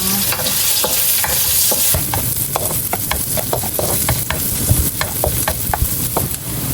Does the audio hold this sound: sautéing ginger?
yes